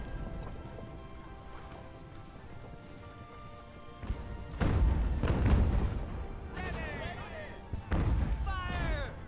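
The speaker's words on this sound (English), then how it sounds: "Shoot the cannon." Cannon fire in the naval strategy game Ultimate Admiral: Age of Sail, a few heavy booming shots in the second half over continuous battle ambience, with voices talking throughout.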